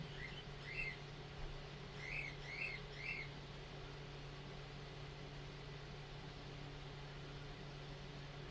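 A small pet bird chirps a few short, high tweets in quick succession indoors, faint against a steady low mechanical hum.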